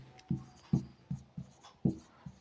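Pen or chalk strokes written by hand during a maths lesson, about seven short, distinct taps and scratches at an uneven pace, close and fairly quiet.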